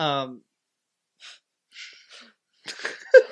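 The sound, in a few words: sneeze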